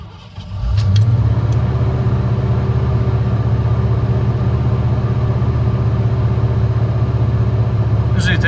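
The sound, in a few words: 1989 Ford Bronco engine cold start and idling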